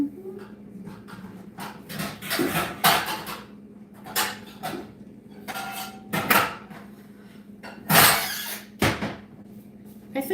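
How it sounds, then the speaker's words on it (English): Pots and pans clank and rattle nearby as a frying pan and other cookware are pulled out and set down, with cupboard and drawer knocks in between. "Let me get a frying pan for these"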